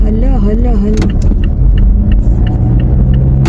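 A car driving along a road through thick fog, its steady low engine and road rumble running throughout with a voice speaking over it.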